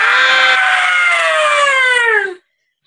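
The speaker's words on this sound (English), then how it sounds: "On three, we scream." A group of people scream together in one loud, sustained, high-pitched cry that slowly falls in pitch over about two seconds and then stops abruptly into silence.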